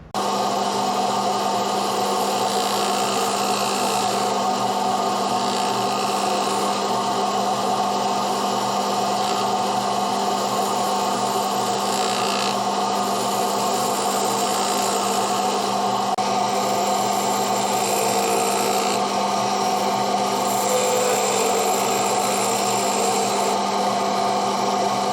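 Steady wood-turning hiss as a spindle gouge cuts a spinning workpiece on a lathe, with continuous broadband noise and a constant motor hum for about 25 seconds, no voices.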